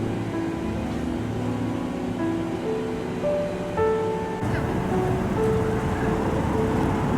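Waves wash continuously along the Hong Kong seaside under a wide bed of city traffic hum, with faint tonal hums drifting in and out and no voices.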